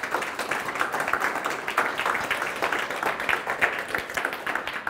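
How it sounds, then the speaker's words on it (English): Audience applause for a performer at a hackathon final, a steady dense patter of many hands clapping throughout, moderately loud with no talk over it. "Can I ask for a round of applause for him?"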